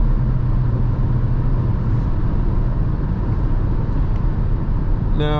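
A 2022 Renault Arkana E-Tech 143 HP hybrid pulls hard at full throttle on a night drive, with a steady, loud cabin drone of engine and road noise that stays level and close for a few seconds.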